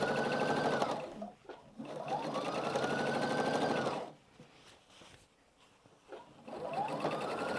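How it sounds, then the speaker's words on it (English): Sewing machine stitching the outer border of a quilted table runner, running in long steady whirring bursts with short pauses between, close and clear with no talking. "Just stitching along."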